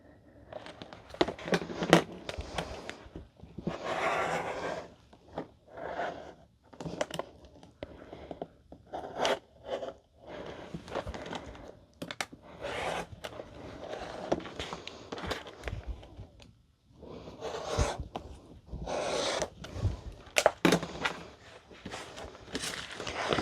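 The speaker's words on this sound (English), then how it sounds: "I'm gonna go ahead and cut my bottom panel." Vinyl being cut for a handbag's bottom panel, a series of intermittent scraping, crinkling cuts with short pauses between strokes, close and fairly loud.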